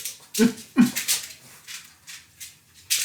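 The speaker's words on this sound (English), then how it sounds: "Somehow my dog got out. And he coming in trying to get in on the excitement." Dog whimpers and yips close by in short, high-pitched cries, two sharper bursts near the start followed by softer intermittent whines, in a kitchen.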